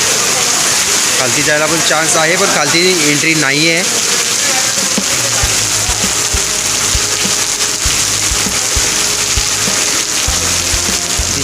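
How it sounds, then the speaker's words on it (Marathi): Heavy monsoon rain pours as a dense, constant hiss near a waterfall, loud and unbroken, while people talk over it. "इतका जोरदार पाऊस सुरू आहे ना मित्रांनो की तुम्ही बाहेर फिरूच शकत नाही"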